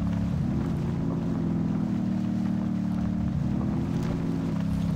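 A sports car engine with an oversized exhaust in the Spintires off-road driving game, a Camaro or Lancer mod, drones in a steady, loud, deep rumble that holds throughout with slight shifts in pitch and no talking.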